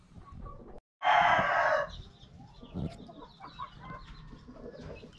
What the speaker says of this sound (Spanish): Aquí está la gallina Asil Cobra pura, amigos